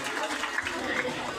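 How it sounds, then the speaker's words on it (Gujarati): Audience at a school function applauding retiring teachers, a brief burst of crowd clapping mixed with chatter and voices. "જોરદાર તાળીના ગણગણે વધારો તમામ શિક્ષકોને"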